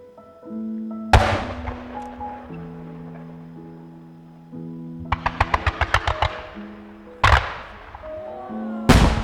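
A private message-fireworks show by the Horiuchi fireworks company in Ina, Japan: sharp booming bursts and a rapid string of crackling pops cut through sustained background music, with loud shell blasts near the end.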